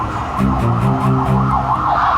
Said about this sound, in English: A siren threading through the dark, like a wound that wouldn't close